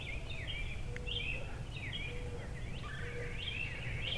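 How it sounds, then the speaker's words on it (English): Birds chirp and trill faintly in the distance over a soft outdoor hush, with several overlapping calls and no voices. "you just hear the birds and the sounds of nature"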